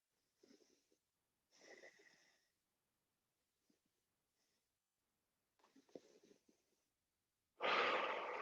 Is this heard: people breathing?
yes